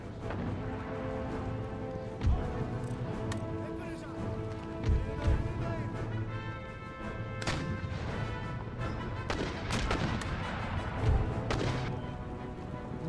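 Artillery firing round shot at grenadier formations in Empire Total War, several heavy booming impacts spaced irregularly across a busy battle soundscape with hoofbeats and clatter, while someone talks over it.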